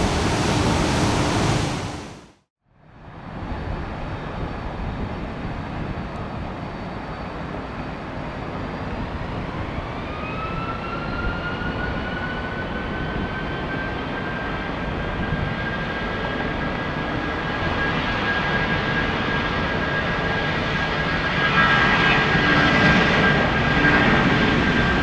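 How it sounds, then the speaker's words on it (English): An airliner takes off at Detroit Metro Airport, its engine roar building steadily after a brief silence, with a high turbine whine climbing in pitch and then holding, loud and continuous for about twenty seconds. "Sergey, runway 21 right, clear for takeoff"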